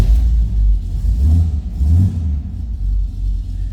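A 1973 Pontiac Ventura two-door engine running, a loud low rumble close by that swells in a couple of short revs before settling back.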